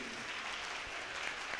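Applause at a Hindi-language church prayer meeting: steady, dense clapping from a congregation, fairly faint and distant, sustained evenly throughout with no talk over it.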